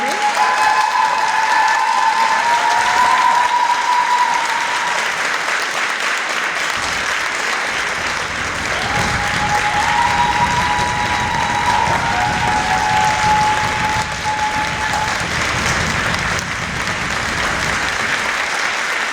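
Sustained, loud applause fills a conference panel hall for a guest, steady dense clapping with occasional voices speaking over it.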